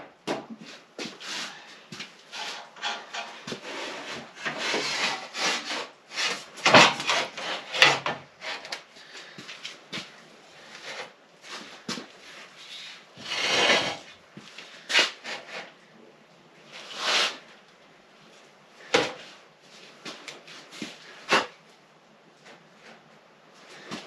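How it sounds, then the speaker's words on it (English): A length of 16-gauge sheet metal is bent up to 90 degrees in a homemade brake, with a stretch of uneven scraping, creaking and rubbing bursts, fairly quiet and close, rising and falling over about twenty seconds. "I'm just going to throw it in my homemade brake. I'm going to bend it up to 90"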